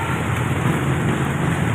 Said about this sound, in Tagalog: Yung lakas ng ulan, nabagat.